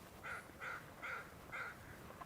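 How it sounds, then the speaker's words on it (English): Four harsh crow caws repeat at a steady pace, moderately distant, with quiet outdoor background and no talking. "I hear the crow."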